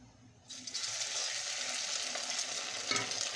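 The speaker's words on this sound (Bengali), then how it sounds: "মামাম ডিম টোস্ট খাবে এখন কড়াইতে তেল বসিয়ে দিয়ে ডিমটা" An egg goes into hot oil in a wok for egg toast, setting off a sudden, loud sizzle that then holds as a steady, close frying hiss with faint stirring clatter near the end.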